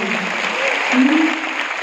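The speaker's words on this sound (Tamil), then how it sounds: "அதனால முதல்ல உனக்கு ஒரு கைத்தட்டல் கொடுத்துடலாமா?" Audience applause at a first-year college orientation programme, a dense, steady clapping from a full hall sustained for the whole stretch.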